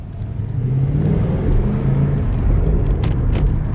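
A Ford Mustang GT V8 engine with exhaust cutouts closed idles quietly and steadily, a soft low rumble with a faint whir, close by and without any talking.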